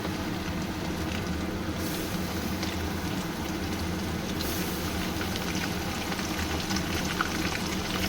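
Chicken and garlic sizzle in hot oil with browned onions for chicken rezala, giving a steady, dense crackling fry with no talking.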